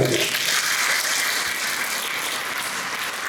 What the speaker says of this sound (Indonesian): Nah, tepuk tangan juga.